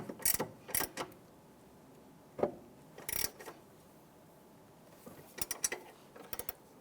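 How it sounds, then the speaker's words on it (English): Socket wrench turning a 15mm sway bar link nut on a 2001-2005 Honda Civic, giving short bursts of clicking ratchet strokes separated by quiet pauses, close and fairly faint. "Using our 15mm socket, I want to go ahead and tighten down this nut right here"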